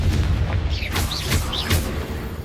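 Confringo fire spell explosions in Hogwarts Legacy, a couple of deep booming bursts with whooshing magical tails in quick succession, loud and close over a rumbling low background.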